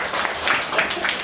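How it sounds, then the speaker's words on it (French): A short burst of clapping from a small group in a classroom activity, steady and fairly close, with a voice faintly mixed in. "Très bien. Applaudissez."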